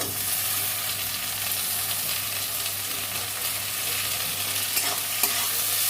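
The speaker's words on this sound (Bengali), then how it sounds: "পেঁয়াজটা একটু লাল লাল করে ভেজে নেব একটা টমেটো দিয়ে দিচ্ছি" Onion and tomato frying in a pan for a rohu fish curry, a steady close crackling sizzle with occasional stirring scrapes, loud and continuous over a low hum, no voices.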